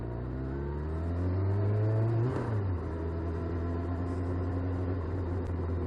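A car engine revs up, climbing in pitch for about two seconds, then drops back and settles into a steady idle drone.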